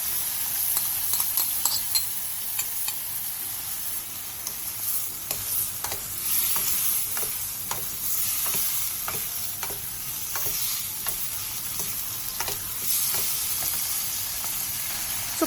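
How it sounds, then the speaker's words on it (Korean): Prepared vegetables and seasoning sauce stir-fried in a pan for a side dish: steady sizzling with repeated scraping stirs and sharp utensil clicks throughout, close and fairly loud, no talking. "그 다음 손질한 야채와 양념장을 넣고 1분 정도 골고루 어우러지게 볶아주세요."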